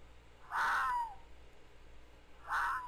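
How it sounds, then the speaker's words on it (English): Two loud, hoarse bird calls from a Mo'Creatures mod bird in Minecraft, each about half a second with a falling tail, spaced two seconds apart over quiet background. "That bird is annoying."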